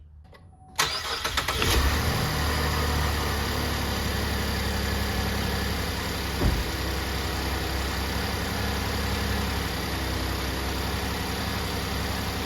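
A Chevrolet Impala engine cranks and catches, then settles into a steady, close idle that runs on evenly with a slight bump midway; no talking.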